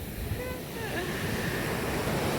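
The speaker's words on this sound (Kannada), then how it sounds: "ನೋಡಿ ಅಲೆಗಳು ಹೆಂಗೆ ಕಾಣ್ತಿದೆ ಅಂತ" Continuous rushing surf from monsoon-season waves breaking on Mudaga beach, Karwar, Uttara Kannada, a steady broad roar with wind buffeting the microphone throughout.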